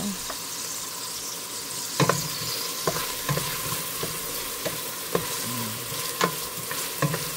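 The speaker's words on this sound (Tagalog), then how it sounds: "Ilagay natin, then gisa-gisa na." Garlic sautéing in a pan before ginger is added, a steady close sizzle punctuated by repeated sharp clicks and scrapes of a utensil against the pan roughly every second.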